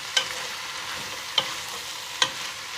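Beans with their liquid cooked off, being stirred in a frying pan: three distinct scraping stirs roughly a second apart over a faint steady sizzle, quiet and close, with no talk.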